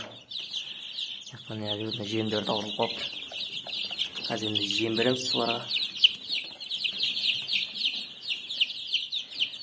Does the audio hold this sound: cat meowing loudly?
no